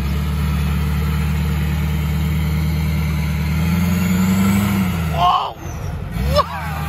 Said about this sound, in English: That is a tank.